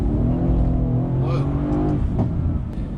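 A tuned AMG C63S with a bi-turbo V8 pulls hard under acceleration after a downshift to second, its deep engine drone loud and steady throughout with rising harmonics and no talking.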